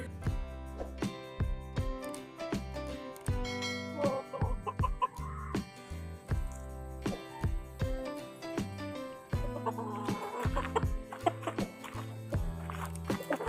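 Four-month-old chickens cluck in a close, busy chorus of short repeated calls and occasional longer squawks, all continuous over thirteen seconds of farmyard sound.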